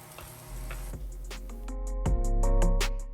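Chopped onion sautéing in oil for a vanjaram fish curry, a soft steady sizzle under scattered ticks and scrapes of stirring, growing slightly louder toward the end, with no voices.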